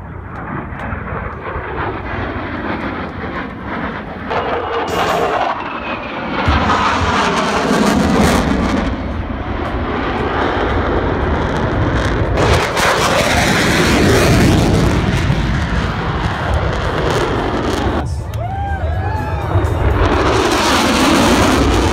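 An aircraft flies an inverted low pass at an air show, a loud continuous engine roar that swells and shifts in pitch as it passes, with crowd and background noise around it.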